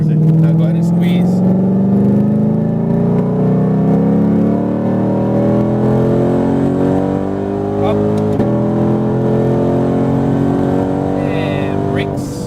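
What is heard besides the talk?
sports car engine revving on race track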